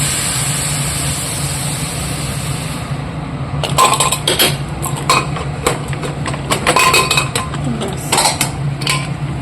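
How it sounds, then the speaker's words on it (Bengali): A pot of curry is set down on a home kitchen stove, with clattering metal knocks and scrapes of cookware over a steady burner hum, several sharp clanks in a loose cluster close by. "হয়ে গেল, এবার তরকারিটা বসিয়ে দেবো।"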